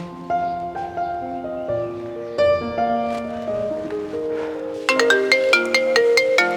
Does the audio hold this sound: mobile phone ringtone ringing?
yes